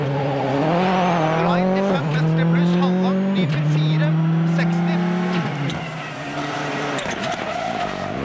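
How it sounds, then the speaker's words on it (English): A 2008 World Rally Championship car, driven by Henning Solberg, skids and clouts the Armco barrier, with a loud, close engine roaring and shifting pitch through repeated revs under a steady wash of tyre and gravel noise. "Oh, but he's clouted the Armco there"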